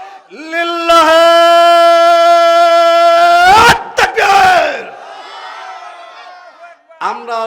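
A crowd at an Islamic religious gathering shouts a slogan in unison, a long sustained group cry answered by a second loud collective shout, led by a single chanting voice before and after.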